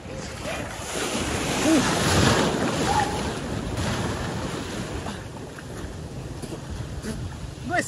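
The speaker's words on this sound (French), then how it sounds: "Il y a une grosse vague." Large ocean waves rolling and breaking on a beach make a continuous loud roar with wind buffeting the microphone, and brief voices are heard over the surf.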